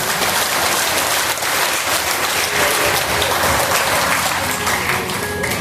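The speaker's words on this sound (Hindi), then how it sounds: "सभी के हाथ में ताली बजाओ जोर से।" A large audience at an ISKCON Bhagavat Katha gathering in Sonipat claps loudly and continuously, a dense sustained roar of applause throughout.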